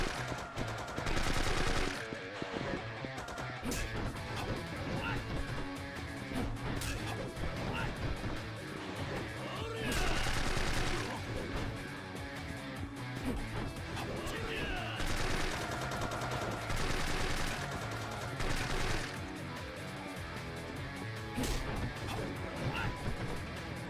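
Gunfire in the video game Yakuza 4 Remastered, dense bursts and sharp shots crackling over a loud, busy game soundtrack with crashes and steady background music throughout.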